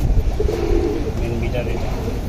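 The oldest pigeon in a home loft coos in low, throaty bursts close by, over a steady noisy background.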